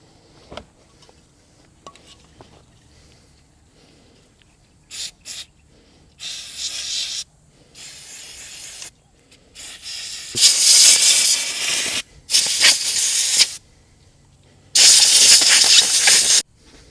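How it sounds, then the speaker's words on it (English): Brake cleaner sprays onto a part of a Detroit Diesel two-stroke 6x6 truck in a series of sharp aerosol hisses. The bursts grow longer and louder, with quiet pauses between them and no talking. "It feels a bit gritty too, so I'll put some brake clean on that, clean that off."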